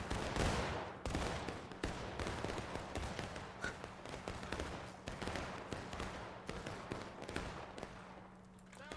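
Musket volley fire in a Manassas Campaign battle game, with many overlapping sharp shots cracking in rapid, ragged succession at close range, some loud and some farther off, forming a steady crackling fusillade.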